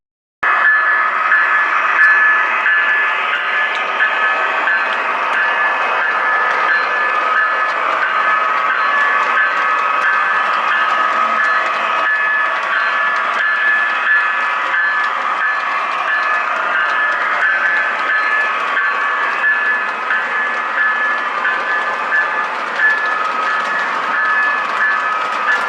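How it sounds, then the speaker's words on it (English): Model trains run through crossover tracks on a layout, producing a continuous, fairly loud rolling hum with a steady motor whine and no clear breaks. "trains go through the crossover tracks"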